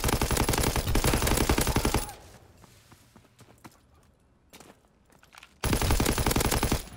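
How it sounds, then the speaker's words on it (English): STG assault rifle firing in a World War II shooter game, loud rapid automatic bursts for about two seconds, a quieter stretch with distant shots and movement, then another hard burst at the end. "We're using the STG, one of my favorite variants of the STG."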